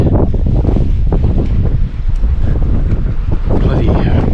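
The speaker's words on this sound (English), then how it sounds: "Bloody windy and freezing again." Strong, cold wind buffets the microphone at a jetty on the South Australian coast, a constant loud roar with gusty low rumble throughout and no speech.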